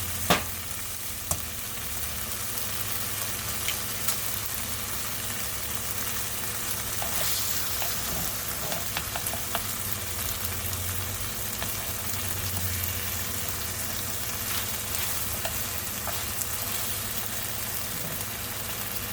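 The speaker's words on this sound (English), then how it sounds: "now I'm gonna go ahead and crack the egg in here" Egg cooking in a hot pan for pad thai, a steady close sizzle and frying hiss running throughout with faint stirring and a few small clicks, no talking.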